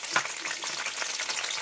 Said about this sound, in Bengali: তেলটা গরম হোক, হলে আমি ক্যাপসিকামগুলো আগে ভেজে নেবো।